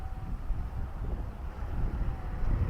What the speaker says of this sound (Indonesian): Nah, anginnya cukup kencang.